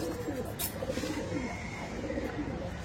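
Pigeons in a loft cooing softly, low repeated coos over a steady background murmur, fairly faint and close.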